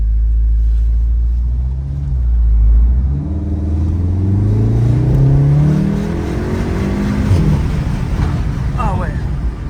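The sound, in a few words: Volkswagen Golf 7R engine revving in race mode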